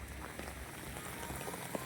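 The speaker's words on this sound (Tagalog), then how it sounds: "ang lakas ang ulan" Heavy rain pours steadily outdoors in the UK, a dense continuous hiss of drops hitting surfaces with scattered louder splats, close and unbroken throughout.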